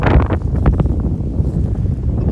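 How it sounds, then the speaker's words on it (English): Strong wind buffets the microphone outdoors at the remains of the Charwelton water troughs on the old Great Central Railway, a continuous loud low rumble with gusty bursts and no speech. "It's really windy"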